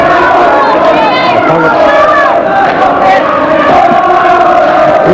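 A boxing crowd at the start of round 1 of Wayne McCullough vs Conn McMullan roars loudly and steadily, with shouts and chatter mixed through a dense wall of cheering.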